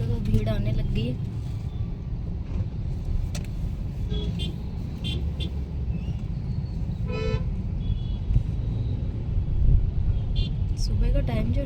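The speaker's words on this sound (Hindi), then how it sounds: "सुबह का टाइम जो रहता है ना, बहुत ज़्यादा ट्रैफिक हो रखी है, बहुत ज़्यादा ट्रैफिक बहुत ज़्यादा है" Heavy morning road traffic: a steady roar and rumble of passing cars and motor vehicles, with repeated horn toots and honks cutting through, and a voice talking underneath.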